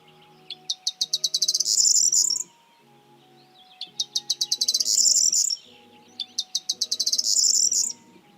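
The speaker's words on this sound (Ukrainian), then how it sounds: "Її спів схожий на зламаний магнітофон, уривки сигналів, хрипи, клацання" A bird sings in three repeated phrases, each starting with a fast run of sharp clicks that swells into buzzy, wheezing chatter, close and clear with low tones beneath.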